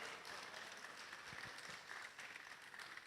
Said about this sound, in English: Are you clapping for Parrish and Gloria?